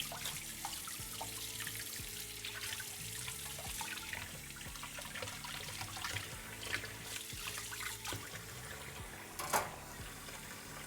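A kitchen sink tap runs steadily with splashing and trickling water, the flow continuous and close, with scattered clinks and a louder splash near the end; the tap is not delivering hot water.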